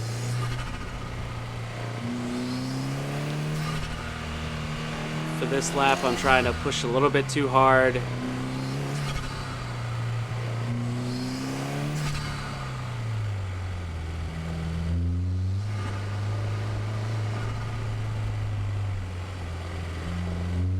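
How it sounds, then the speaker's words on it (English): A 2020 Subaru WRX engine drones from inside the engine bay during a wet autocross run, its pitch rising and falling as the driver revs and lifts, while he talks over it throughout. "And we're back to the engine bay audio."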